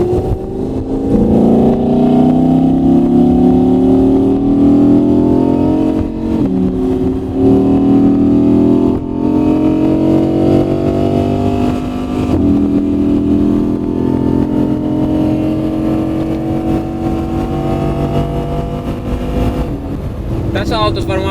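Supercar accelerating on a motorway near Marbella with the roof closed: a loud, steady engine drone with long rising pitch sweeps as it pulls through the gears, heard from inside the car under a voice talking.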